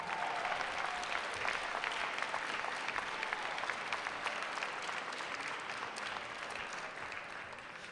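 An audience at the Manhattan Borough President's 2023 State of the Borough Address applauds the community board members with sustained, dense clapping from a large crowd, steady throughout and fairly distant.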